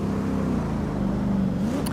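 A supercharged car in the racing game Assetto Corsa, its engine droning steadily with a rising and falling whine riding on top, loud and close throughout with no voices.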